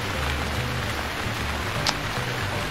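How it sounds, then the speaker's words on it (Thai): Rain falls in the survival video game Stranded Deep, a continuous soft patter of drops with a low steady rumble beneath and one brief sharp tap near the end. "ฝนตกจะเลยนะครับ"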